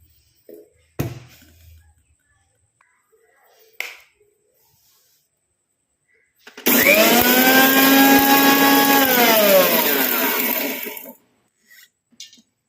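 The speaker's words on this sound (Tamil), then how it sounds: "இப்போ நம்ம அரைச்சி எடுத்துகிட்டு வந்துடலாம்." A mixer grinder runs dry on hair-dye ingredients, a loud, steady whirring grind lasting about four seconds after a few light clicks and knocks, then cutting off abruptly.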